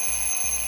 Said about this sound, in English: you're startled awake by the sound of your alarm